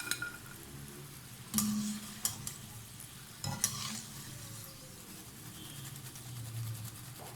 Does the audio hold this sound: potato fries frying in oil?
yes